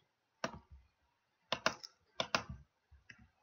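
Keys clatter on a computer keyboard while a formula is entered into a GIS raster calculator, in short bursts of several quick, close clicks separated by brief pauses, with no talking.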